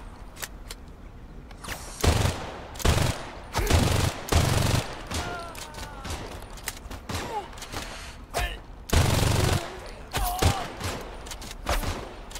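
Gunfire in the Crime Boss Rockay City game: loud bursts of rapid shots come in clusters with short gaps, over a low background hum and a few fainter pops.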